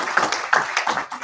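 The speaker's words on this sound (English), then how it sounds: "I'd like to give them a round of applause." Audience at a town board meeting claps in a round of applause, a brief patter of hand claps heard up close and moderately loud, with no talking over it.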